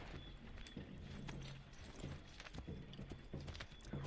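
Horse hooves clip-clop in a quick, steady rhythm in the video game Assassin's Creed III, fairly quiet and close, with no voices.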